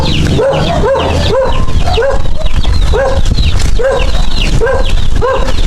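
A dog barks in a regular series of sharp, loud barks at close range, about a dozen in quick rhythm, over a low background rumble, with no speech.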